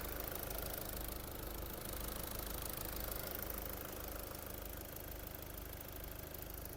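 A Volkswagen Golf VI engine idles steadily with a low, even rumble and faint rhythmic knocking, no voices.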